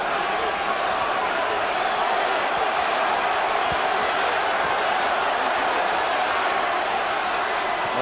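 Boxing crowd at the George Foreman vs Tommy Morrison fight roaring steadily as the fighters trade combinations early in a round, a dense continuous wash of cheering across the whole stretch.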